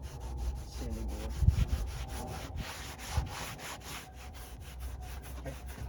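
A sanding board rubs over foam and fiberglass on a C8 Corvette trunk in quick, rhythmic back-and-forth strokes, each one a soft scratchy rasp, with a few heavier bumps along the way.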